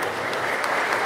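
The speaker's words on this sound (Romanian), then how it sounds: "Aplauze!" Audience applause at an art exhibition opening in Iași's Palace of Culture, a dense, steady burst of clapping from a crowd lasting about a second.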